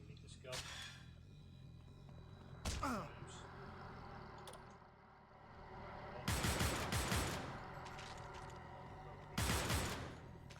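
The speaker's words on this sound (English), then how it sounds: "That machine gun is sick, actually" Machine gun fire in the PS2 game Manhunt 2, heard as several loud rapid bursts, one short and two longer volleys a few seconds apart, between quieter stretches with faint groans and sighs.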